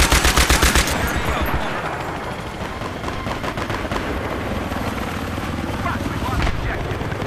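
Battlefield 3 multiplayer combat on Sharqi Peninsula: enemy helicopter rotors thrum steadily while loud bursts of rapid machine-gun fire open the scene and scattered shots continue, with a player talking over the action.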